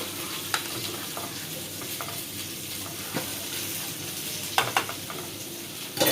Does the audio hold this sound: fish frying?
yes